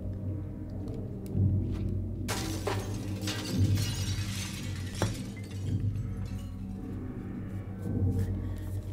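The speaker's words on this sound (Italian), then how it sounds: "Allora rompi lo specchio." A mirror shatters in the video game Little Nightmares, with a sudden loud crash and scattering glass fragments that ring out over a low rumbling ambience, followed by smaller tinkling debris.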